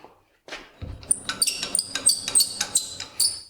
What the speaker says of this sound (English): You hear this squeaking and then how this rattles really easily?